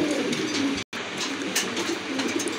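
Pigeons at a breeding farm coo in a continuous low, throaty murmur at moderate loudness, broken once by a brief dropout of sound, with no voices.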